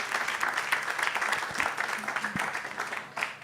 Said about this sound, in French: On peut l'applaudir, allez-y.